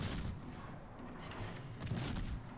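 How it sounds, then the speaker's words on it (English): Broadside from a Cleveland-class cruiser in World of Warships, armour-piercing shells fired in a heavy barrage; dense booming salvos rumble at the start and again near the end over constant loud battle noise. "I fire with everything I have"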